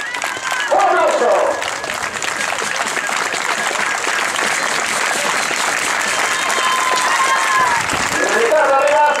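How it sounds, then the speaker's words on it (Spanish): A crowd at a popular footrace in Meaño applauds the winning runner, with sustained clapping and cheering throughout and an announcer's voice mixed in over the ovation. "Un aplauso."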